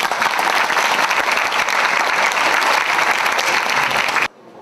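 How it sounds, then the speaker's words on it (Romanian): Dense, steady applause from an audience at a volunteer awards ceremony, loud and continuous for about four seconds before cutting off abruptly. "Putem să-i aplaudăm în premieră."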